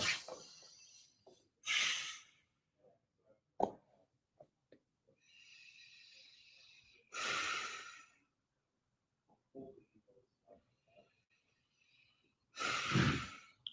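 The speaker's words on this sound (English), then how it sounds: "Nice big belly breaths." Deep belly breathing in a relaxation exercise: slow, loud breaths drawn in and pushed out at long intervals, close and breathy, with quiet pauses and faint small sounds between them.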